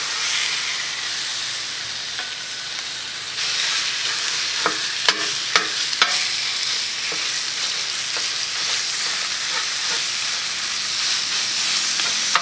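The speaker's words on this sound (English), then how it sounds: "This is going to be excellent for just quickly grilling both the shrimp and the chorizo." Shrimp and chorizo grilling on a stainless steel griddle give a continuous bright sizzle and hiss, joined by a few sharp clicks and scrapes of a utensil partway through.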